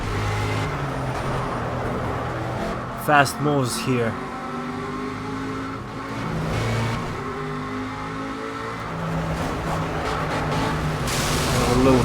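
An Aston Martin V8 Vantage GTE race car engine in Project Cars, droning steadily as it shifts and revs through gears among other racing cars, with someone talking over it.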